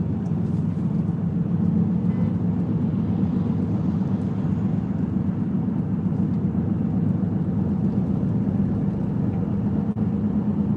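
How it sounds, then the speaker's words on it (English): Heard from inside a car sitting in Washington DC traffic: a continuous low muffled rumble of engine and road noise, steady and even with no voices. "And yes, I'm sitting in DC traffic."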